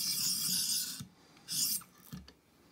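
A metal blade being sharpened with strokes across a file or stone, two raspy grinding passes separated by brief gaps and a light knock, close and fairly loud.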